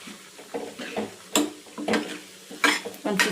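Thinly sliced radish fries in a tempering in a pan for radish sambar, with a spatula scraping and clinking against the metal in irregular strokes over a soft sizzle.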